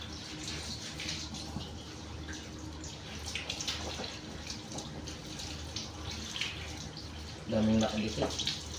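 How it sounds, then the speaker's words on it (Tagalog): Shower water runs steadily while a dog is bathed, making a constant spray hiss, with a louder splash near the end and a person speaking over it. "Shower ka muna. Para mapreskuhan ka."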